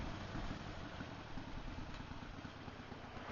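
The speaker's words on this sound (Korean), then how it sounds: "오랜만에 또 바이크 소리 들으니까" A motorcycle engine running, heard at moderate distance with a steady low throbbing rumble and faint mechanical clatter, continuous and without talk.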